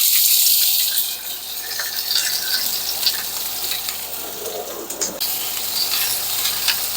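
Onions hit heated extra virgin olive oil in a pan, giving a bright, continuous sizzle with crackly spits and some stirring scrapes, close and fairly loud throughout.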